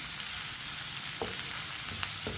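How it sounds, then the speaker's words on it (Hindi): Onions frying over a medium flame in a pan for an egg and bitter gourd (anda karela) dish, a steady close sizzle with a few soft stirring scrapes, no talking. "प्याज को भी 2 मिनट के लिए पका लेंगे, 2 मिनट के लिए फ्राई कर लेंगे।"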